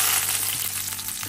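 Onion sizzles in hot tempering oil for ridge gourd curry, a close, steady crackling fry with faint stirring and no voices.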